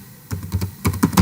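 Computer keyboard keys typed in a short burst of quick, uneven clicks, close and fairly loud, with no voices.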